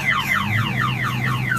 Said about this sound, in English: Another car alarm, baby.